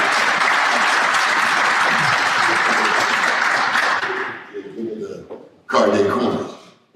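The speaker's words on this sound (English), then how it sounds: "Let's give him a round of applause." Applause from an audience at an awards ceremony, loud and sustained for about four seconds before thinning into scattered claps, then a brief second burst of clapping mixed with cheering voices.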